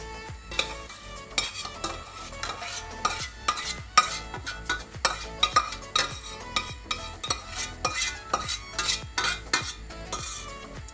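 Yogurt is poured and stirred into a pot of Turkish tarhana soup, with a spoon clattering and scraping against the pot in quick, uneven strokes, close and continuous with no speech.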